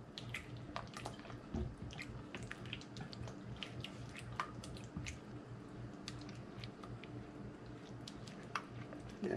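Old-fashioned potato salad with mustard being stirred in a bowl, giving soft, wet squishing and sticky smacking sounds with small clicks, continuous and close for the whole stretch with no talking.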